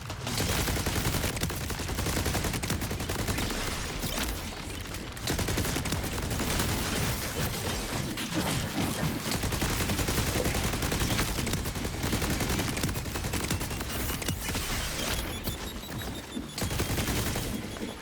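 Rapid, continuous Gatling gun fire from the Borderlands video game, loud and close, a dense unbroken roar of shots with a brief dip near the five-second mark and no voices.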